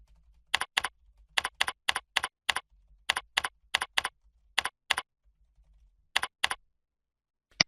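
Keys clack on a computer keyboard as an email is finished, in quick pairs and short bursts of crisp, close taps separated by brief pauses. A single sharper click sounds at the end, with no voices.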